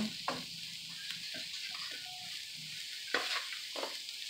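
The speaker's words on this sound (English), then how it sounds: "Just gonna get it all nice and mixed up so it's evenly coated." Seasoned black beans and rice for keto congri mixed in a pan over high heat, a faint continuous sizzle with a few soft spoon scrapes and knocks against the pan.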